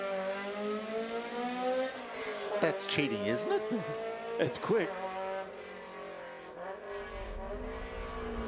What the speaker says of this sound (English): Philip Kay leaving the line now in the Mark II RS2000